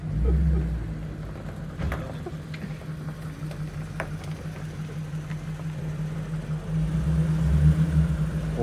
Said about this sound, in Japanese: 音はいいですよね、ループマフラーの。